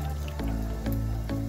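Chicken gizzards dropped into a pot of water on the stove, making three soft wet splashes spaced about half a second apart, close by and with no talking.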